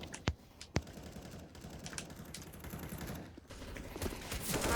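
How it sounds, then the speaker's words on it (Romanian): Mechanical computer keyboard typing during a CS:GO competitive match, with irregular clicky keystrokes picked up loudly by a headset microphone, a few sharper louder clacks standing out and background noise rising toward the end. "Mamă, cât de tare ți se aude tastatura. Bine, și mie mi se aude, dar e mecanică."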